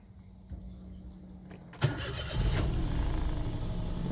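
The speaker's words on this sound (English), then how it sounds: "Engine still starts." A Toyota Aygo's engine cranks and catches after a couple of quiet clicks, then settles into a steady, fairly close idle; faint birdsong sounds before the start.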